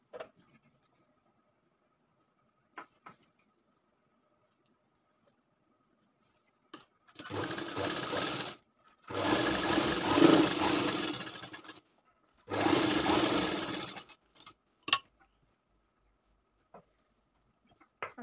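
A sewing machine stitches the lining of a katori blouse in three separate runs of steady, close whirring, each a second or a few seconds long, with quiet handling clicks between them.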